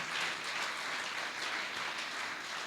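A church congregation at a French-language service applauds in acclaim of Jesus, an even, sustained wash of many hands clapping at moderate volume with no voices rising above it.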